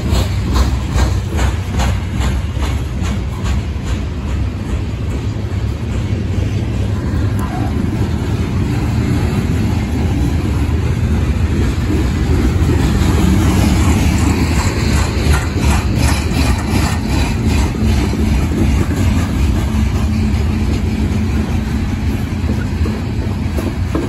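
A southbound coal train rolls past at milepost 367 on the Fulton subdivision, a loud, continuous rumble and rhythmic clatter of wheels over rail joints with a heavy low drone throughout.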